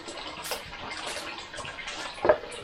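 Cold, drinkable spring water from underground flows steadily while being collected at a holy spring near Zalishchyky, a continuous close splashing stream with a brief louder gush near the end and no talking.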